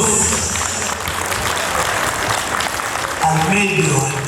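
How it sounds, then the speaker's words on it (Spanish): Wedding guests clap together in a lively, steady burst of applause, a dense crowd sound with background voices and music mixed in. "¿Hay aplausos o no hay aplausos?"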